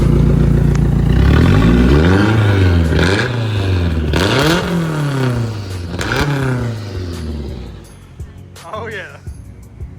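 A Nissan 240SX engine revving repeatedly, close and loud, each rev rising and falling in pitch in a rhythmic series before settling to idle, with some clattering underneath.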